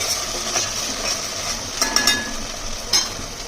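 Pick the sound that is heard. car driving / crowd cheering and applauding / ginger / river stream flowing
ginger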